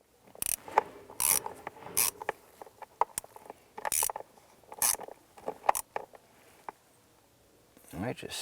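Screws being snugged down on a 2015-2020 Cadillac Escalade blower motor assembly, a series of sharp, close ratchet clicks in irregular bursts, with a voice speaking and a brief rustle at the end.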